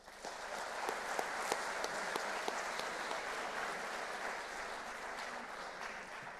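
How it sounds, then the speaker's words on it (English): Soft, steady applause from an audience of newly arrived students at a morning welcome event in Madrid, sustained and fairly distant, with a few sharper individual claps standing out. "let's have a round of applause for you guys"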